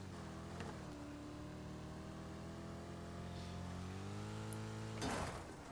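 Racing car engines in Wreckfest, a faint steady engine drone with shifting pitch as cars rev and change gear, plus a brief louder rush near the end.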